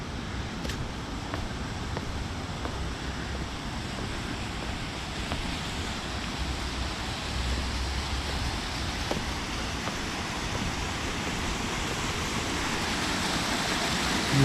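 A fountain water feature splashes steadily in downtown Greenville, a broad continuous rush of falling water that holds even and fairly loud for the whole stretch, with no talking.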